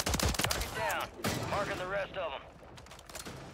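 SMG gunfire in Call of Duty Warzone 3 crackles in rapid bursts with game sound effects, fairly loud and mixed with a voice talking over parts of it.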